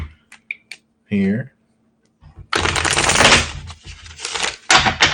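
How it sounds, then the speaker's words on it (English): A tarot card deck being riffle-shuffled in a few quick, crisp bursts of papery fluttering and clicking, close by, after a brief spoken word and a short hum. "I think 2 more shuffles and we're good."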